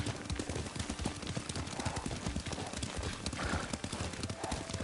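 Horse hooves clip-clopping at a riding pace in the samurai video game Ghost of Tsushima, steady rhythmic beats close by with a brief whinny.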